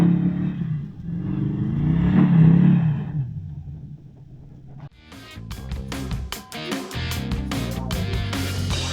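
A truck engine revs hard while power sliding up a dirt hill at an ORV park, with a limited slip differential in the rear. A steady rumble builds, then gives way to sharp, choppy revving and clattering bursts near the end.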